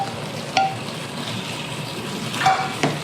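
Browned beef going back into a pan of reduced, thickened wine for beef bourguignon: a steady low sizzle with a couple of short clinks and stirring scrapes, no talk.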